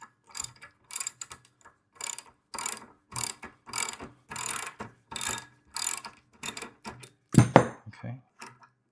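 A ratchet loosens an 18 millimeter bolt on a plate compactor, giving repeated close bursts of clicking pawl ratcheting with short gaps between strokes and a heavier clunk near the end.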